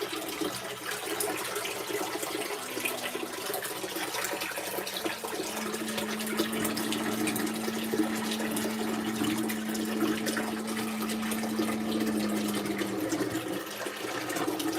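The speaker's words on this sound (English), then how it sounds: "now it appears to be draining." An LG ThinQ MEGA Ultimate washing machine drains water on a Fluffy Cotton cycle, a steady rushing flow with a low droning pump hum that holds for several seconds and then fades out.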